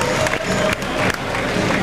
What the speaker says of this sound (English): They got a half a standing ovation going on.